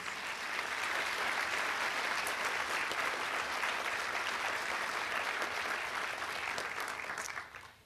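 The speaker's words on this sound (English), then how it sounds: "Another round of applause for you guys." A room full of people applauds new nurses at a BSN pinning ceremony, a dense, continuous wash of clapping that holds steady for several seconds, then tapers off at the end.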